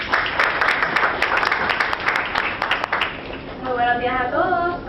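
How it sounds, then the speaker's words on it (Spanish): An audience at a university lecture hall event claps for about three seconds in a dense burst of applause, which then fades out as a voice begins speaking. "Un aplauso para Ariana."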